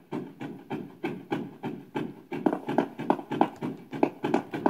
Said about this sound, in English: Why do you keep hearing footsteps?